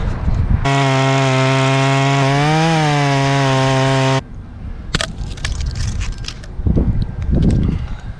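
A chainsaw cuts a felled spruce trunk into chunks. A loud, high-revving engine whine holds for about four seconds, then gives way to rougher cutting and clattering noise.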